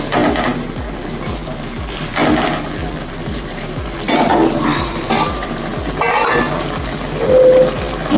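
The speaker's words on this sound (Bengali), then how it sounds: "আমার ঝোলটা ফুটে উঠেছে, আমি এবার মাছগুলো দিয়ে দিলাম।" Fish pieces dropped into boiling curry gravy for a Bengali fish jhal, with continuous bubbling, sizzling and stirring in the pan at close range, swelling in bursts as the liquid churns.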